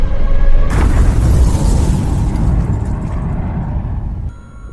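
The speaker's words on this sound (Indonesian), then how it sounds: "menghasilkan ledakan besar yang membuat gedung-gedung berguncang, kaca pecah, dan asap hitam membumbung tinggi" A huge explosion as a meteor strikes a city: a loud, sustained boom with rumbling low roar that decays slowly over several seconds, ending abruptly.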